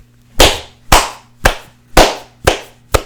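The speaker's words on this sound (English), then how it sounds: "I gotta clap for that" Six slow, loud hand claps spaced about half a second apart, each one a sharp crack that fades quickly, with no other sound between them.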